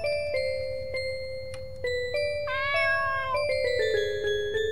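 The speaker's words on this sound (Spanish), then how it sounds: "tal vez es el maullido de ese gato que he escuchado antes" Cats meowing in a video game, a series of clear, tonal meows of varying pitch, some drawn out and rising, close and distinct over a soft steady background hum.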